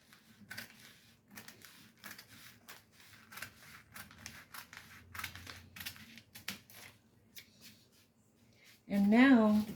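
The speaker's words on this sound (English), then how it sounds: "So we go ahead and start cutting." Scissors snip through fabric for a ribbon craft in a quick, irregular series of close, crisp cuts, with a brief louder tonal burst at the very end.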